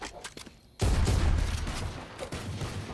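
Gunfire in Valorant during a collegiate esports match: a quiet opening with faint clicks, then a sudden loud burst of rapid automatic fire that rolls on and tapers into dense, sustained shooting.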